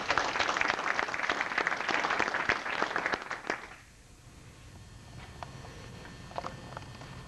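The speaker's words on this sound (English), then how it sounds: "Ladies and gentlemen, please hold your applause until the remaining graduates have received their diplomas and badges." Graduation-ceremony audience applause at an Army AIT graduation, dense clapping from a crowd that sounds fairly distant in a large hall, fading out midway into a quieter room with a few scattered claps and faint stray noises.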